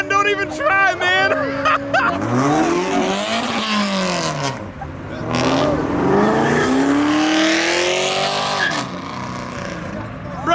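Motorcycle engine revving hard during a burnout, loud and close with rising and falling pitch sweeps and tire noise, while people shout and talk over it.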